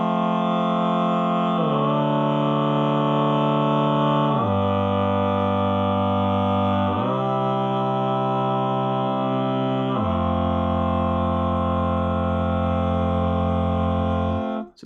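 Sustained chords in root position, tuned from the root, change in four or five steady blocks, each held for a few seconds; the tone is smooth and organ-like with no talking.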